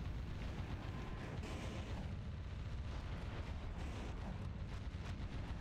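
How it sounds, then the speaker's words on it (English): Explosions from blowing up guns in the video game Metal Wolf Chaos XD form a dense, continuous rumble of booms and blasts, loud and unbroken for several seconds. "Hang on, I have to blow up the guns."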